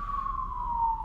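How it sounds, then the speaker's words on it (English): Wailing siren of an emergency vehicle passing outside, a single sustained tone slowly falling in pitch, heard from indoors at moderate distance over a low background rumble. "Do you hear those sirens out there?"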